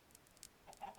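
A flock of chickens in the video game Minecraft cluck faintly in a few short, soft bursts, alone without talk.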